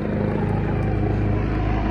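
Low rhythmic thudding drone of a helicopter circling overhead at a St Patrick's Day parade in Newport, Ireland, steady and fairly loud throughout the short stretch.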